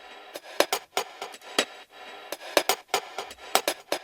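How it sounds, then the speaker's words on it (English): A percussion loop from a Splice sample pack in a retro pop track: crisp, dry clicky hits in a syncopated repeating pattern, bright and sharp with quiet gaps between strikes. "There's also a percussion loop in the mix that I got from Splice."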